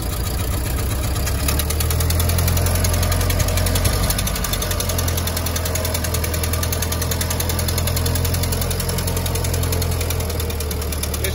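A 1925 Ford station wagon engine runs loud and close in low gear as the car creeps forward, with a rough, rapid knocking chug that holds steady throughout and no talk.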